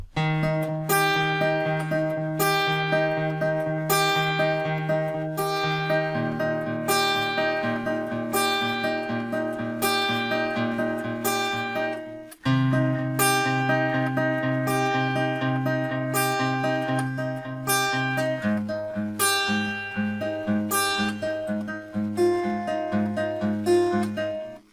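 Acoustic guitar plays a song at full tempo, close and clear, with strummed chords changing in a repeating progression and no voice.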